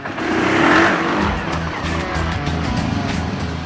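Suzuki King Quad 750 ATV with power steering on a test ride outdoors: a steady, loud engine drone swells in the first second, then holds a continuous running note with faint tire and terrain noise, no talking.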